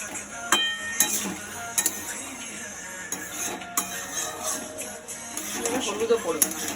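Onion and potatoes fry in a pan with no added water, a soft sizzle broken by scattered clinks and scrapes of a utensil against metal, with people talking over it.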